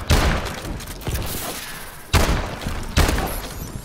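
Gunfire in the video game Call of Duty: Advanced Warfare hits in three heavy bursts, each a loud thumping blast followed by a decaying rattle, close and punchy with short gaps between.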